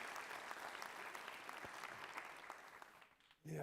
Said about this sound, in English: A warm applause for Marian Woller.